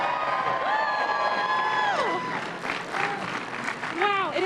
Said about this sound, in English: it is so nice having an actual applause to that